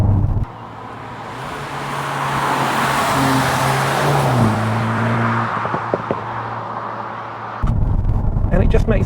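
Volkswagen Golf GTI Mk8 with paddle shifters driven on a road, its engine droning steadily with pitch shifts as gears change from fifth down to fourth and back up, then a louder burst of acceleration near the end.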